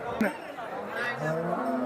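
Jersey dairy cow at a cattle sale lets out a low, drawn-out moo, fairly close, with faint people chatter in the background.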